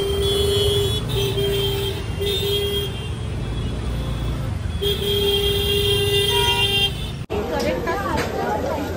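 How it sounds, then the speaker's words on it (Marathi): Jammed traffic on a street in Lokhandwala, Andheri, Mumbai, with long sustained car horns blaring over engine rumble and street noise, and people talking nearby. "ट्रॅफिक जाम करून टाकले, वाकड्या तिकडे गाड्या टाकतायत"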